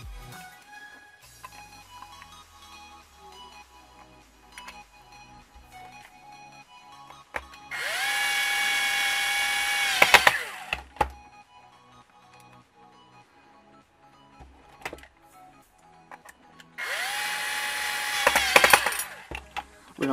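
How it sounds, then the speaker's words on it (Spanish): A power drill drives screws through a small hinge piece into wood in two separate bursts of high whining motor noise, each spinning up sharply and then stopping. Quiet handling clicks and taps fall between them. "Ahora vamos a atornillar esta aquí, esta piecita aquí, para que nos sirva como de bisagra"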